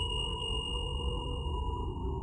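A glowing irradiated marble in the game Feet In The Snow gives off a steady electronic hum with a sustained high sine-like tone, unbroken and continuous for a couple of seconds.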